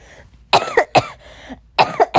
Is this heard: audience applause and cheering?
no